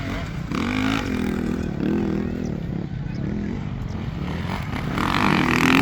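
Executive 50cc motorcycles race at a barangay event in Bantigue, Ormoc City, Leyte, their small engines buzzing and revving continuously and fairly close, with an announcer's voice and crowd noise running underneath.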